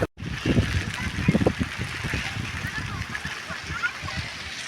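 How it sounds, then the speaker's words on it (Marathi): Heavy rain falls on a bridge over the Krishna river at Narsobachi Wadi, a steady broad hiss with splashing under people talking nearby. "पाऊस खूप मोठ्या प्रमाणामध्ये चालू आहे"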